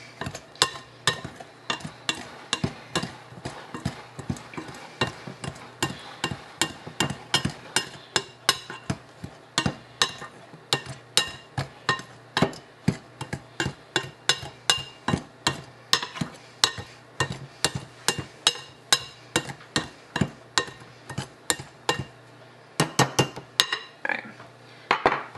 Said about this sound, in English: switch to a bench scraper and get this all worked in so that it's like little pea-size